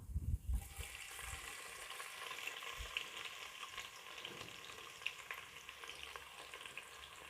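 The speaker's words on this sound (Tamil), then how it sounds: "இப்போ எல்லாமே பொரியட்டும் நல்லா" Bay leaf, cloves and cardamom fry in oil as the base for mutton biryani, a quiet steady sizzle with small crackles and a few stirring knocks, close by and without talk.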